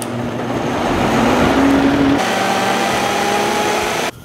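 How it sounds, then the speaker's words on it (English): A kitchen blender runs on medium speed, mixing a sorghum, fig and walnut bread batter: a loud, steady motor whir that shifts pitch partway through as the load changes, then cuts off abruptly near the end. "Now we're going to blend."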